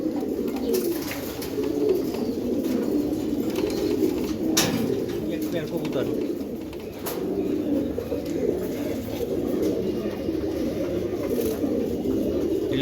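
Several Giribaj pigeons coo steadily in a loft, a continuous low murmur of overlapping calls with occasional wing or cage clatter, close and fairly loud throughout.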